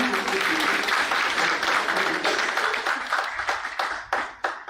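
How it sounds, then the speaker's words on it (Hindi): Audience applause at an opening ceremony, a broad wash of many hands clapping that starts full and gradually thins toward the end, with a few louder isolated claps near the close. "तालियों की गूंज में कमी नहीं होनी चाहिए"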